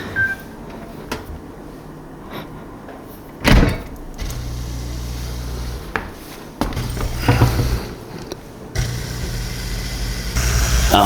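A dishwasher running its drain cycle after a drain pump replacement, with a steady low hum that starts and stops in stretches, mixed with clunks and handling knocks from nearby.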